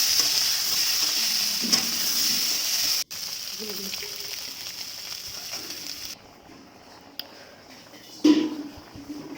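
Eggs and potatoes frying in oil with turmeric and salt: a bright, steady sizzle and hiss for the first few seconds, then quieter frying with occasional stirring scrapes and a louder knock near the end.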